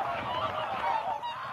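Migratory geese and other waterfowl honk at Amir-Kelayeh wetland in Lahijan county, Gilan, Iran, a dense chorus of overlapping calls at moderate distance, continuous and fairly loud, with no voices.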